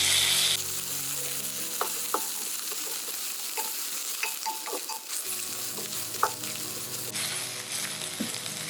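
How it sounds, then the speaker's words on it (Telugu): Ginger garlic paste frying in oil in a pan for palak biryani, a constant loud sizzle with repeated spoon scrapes and taps against the pan scattered throughout, no talking. "కొద్దిగా జింజర్ గార్లిక్ పేస్ట్ యాడ్ చేసుకుందాం. కొంచెం పచ్చి వాసన పోయేంత వరకు అలా వేయించుకుందాం."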